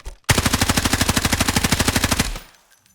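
A CI 19 rifle in the game Delta Force fires one sustained automatic burst of roughly thirty rapid, evenly spaced shots, loud and close, then cuts off into a short fading tail.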